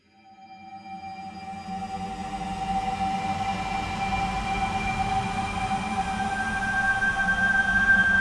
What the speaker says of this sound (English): I've transposed the piano up 3 octaves, so it gets like whistle tones out of the Spectral Drone Maker.